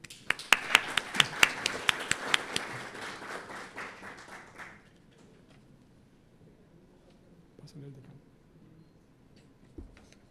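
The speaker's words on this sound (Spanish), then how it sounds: "Para ellos un cálido aplauso." Warm audience applause at a public accountability event on maternal mortality, starting with sharp, distinct claps that blend into a brief burst, then fading out after about five seconds into quiet room noise with faint stray sounds.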